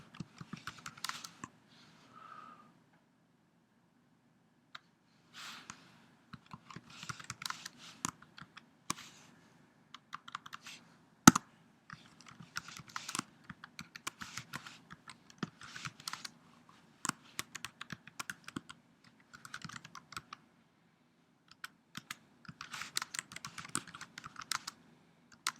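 Fingers tap steadily on a computer keyboard while code is entered, giving quiet, close clicks in irregular bursts with short pauses over about twenty-five seconds and one sharper keystroke partway through.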